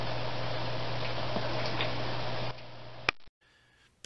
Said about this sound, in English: Now we switch the printer on.